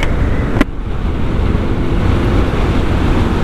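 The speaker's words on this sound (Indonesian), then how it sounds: "Wow, anginnya kencang banget teman-teman di sini." Strong wind buffets the microphone on a mountain motorcycle ride toward Citorek, Banten, a loud, continuous low roar that holds steady throughout, broken near the start by one sharp click.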